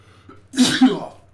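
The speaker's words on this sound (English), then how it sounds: "Sneezed a little bit" A single sneeze from a player during a Far Cry New Dawn gaming session, a sharp inhaled catch followed by a loud explosive burst, close to the microphone with a low game hum underneath.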